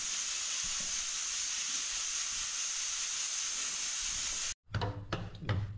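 A pressure cooker holding toor dal hisses steadily with a loud, even jet of steam, then cuts off abruptly, followed by a few nearby knocks and clatters in a home kitchen.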